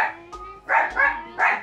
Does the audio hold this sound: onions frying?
no